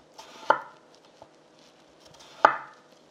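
Two crisp knife cuts slice off the side of a vegetable onto a cutting board, about two seconds apart, quiet and close with near silence between them.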